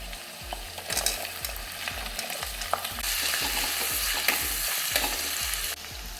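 Raw plantain pieces sautéing with turmeric in a pan for a coconut fish curry, a steady sizzle with a regular clatter of spoon stirring against the pan throughout, fairly close and moderate in level.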